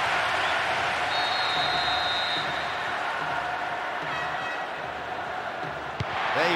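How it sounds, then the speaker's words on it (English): Stadium crowd roaring and cheering after the opening goal of a football match, a dense, steady wall of noise with no pauses, loud and continuous throughout. "The stadium is shaking because they're jumping up and down and making so much noise."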